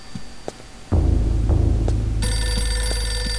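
A telephone rings inside the horror game Eternal Darkness: Sanity's Requiem, a loud low throbbing ring with a humming drone that later gains a bright, sustained tonal layer, heard without speech.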